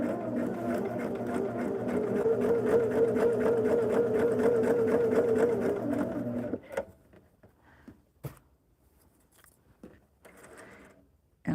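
Sewing machine stitching a quilt block along a marked line, a close steady buzzing run for several seconds that then stops, followed by quiet handling noises and faint fabric movement.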